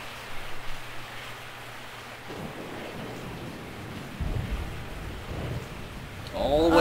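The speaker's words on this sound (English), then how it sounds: "I woke up to the sound of falling rain." Rain and thunder in the video game Resident Evil 3, a soft steady patter of rainfall with low rumbling swells of thunder building toward the end, ambient and moderately loud.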